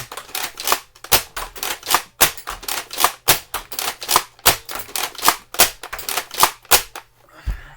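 A Nerf Flipshots Flip-32 blaster firing foam darts, about twenty sharp, loud snapping shots in a fast, fairly even rhythm, close by, ending with a faint rustle.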